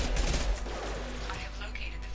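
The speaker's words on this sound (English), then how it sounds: "Firing concussive shot." Concussive shot power fired in Mass Effect 2, a dense burst of game combat noise with a booming low rumble. Game music and effects fill the background, and a voice speaks faintly underneath.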